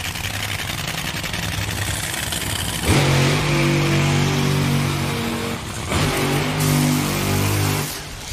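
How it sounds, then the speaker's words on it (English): Top Fuel Funny Car drag racing engines at the New England Nationals fire up with a loud, close, harsh roar that thunders on for several seconds, then surges again after a brief dip, with no talk over it. "And our final pair of funny cars comes to life with Top Fuel"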